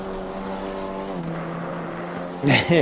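A BMW race car in Assetto Corsa Competizione holds a steady, droning engine note that dips slightly in pitch partway through, and a voice cuts in briefly at the end.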